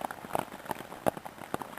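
Rain falling on a campsite in the Nebraska Sandhills patters in quick, irregular drops on a nearby surface. Quiet and brief with no talk.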